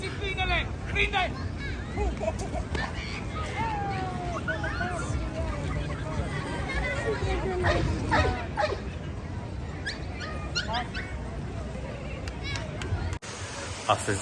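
A twelve-month-old police dog yips, whimpers and barks amid crowd babble and nearby talk, in bursts scattered through a busy outdoor scene.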